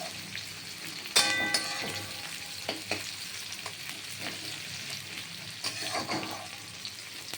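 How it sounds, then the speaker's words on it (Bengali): Onion fries in a pan with a continuous close sizzle, punctuated by sharper scrapes and clinks of stirring, including a loud clatter early on and a few more bursts later. "এইবার পেঁয়াজটা এবার লাল করে ভাজা হবে"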